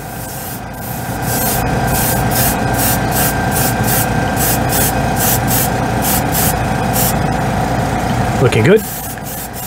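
Airbrush spraying white scale-model paint in a steady hiss that runs for most of the clip over a low mechanical hum, with rhythmic pulsing, ending with a brief voice.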